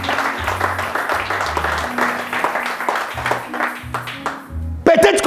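A church congregation applauds during a service, with steady clapping over a rhythmic bass-heavy music backing, and a preacher's voice rising above it at the end.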